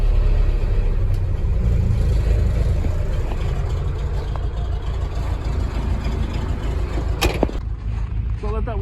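A 1986 GMC truck engine idling while warming up, a steady loud low rumble running throughout, up close, with a brief clatter near the end.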